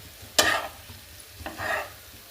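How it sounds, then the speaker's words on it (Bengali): A home-cooked noodle dish with vegetables from a rooftop garden is stirred in a frying pan: two distinct scraping strokes a second apart over a soft background sizzle, close by and without talk. "নেড়ে ছেড়ে দিচ্ছি"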